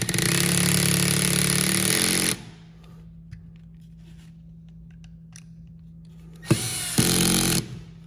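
A power tool drives screws to secure a 120V stator into an iQ360XR saw motor housing: two loud sustained whirring bursts, close by, separated by a quiet pause with faint handling clicks.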